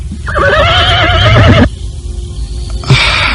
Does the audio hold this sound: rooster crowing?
no